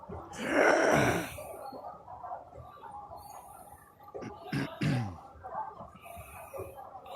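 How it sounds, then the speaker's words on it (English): Heavy, rasping breathing close to a microphone opens with a loud gasping breath, then continues as quieter, uneven huffs and groan-like exhales with a second strong breath midway. "Oh, straight back into the breathing."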